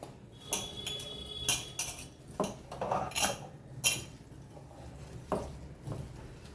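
Chicken pakodi batter with spices is mixed in a bowl, giving close, irregular clinks and scrapes of a utensil against the dish, about a dozen distinct knocks with no talking.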